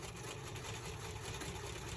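A sewing machine stitches fabric in a steady, fast mechanical whir with rapid even clatter, continuous and close throughout.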